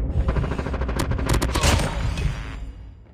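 A Call of Duty airstrike, a dense, continuous barrage of rapid blasts and crackling impacts rumbling together for a few seconds before tapering off.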